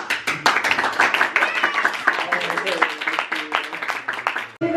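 People clap at a birthday party, a cluster of nearby hands smacking in quick uneven bursts, while voices chatter and exclaim over the clapping.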